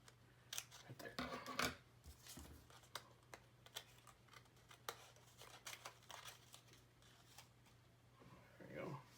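Scissors snip through paper for a paper sculpture. The sharp cuts come in irregular bursts, with a low steady hum behind them.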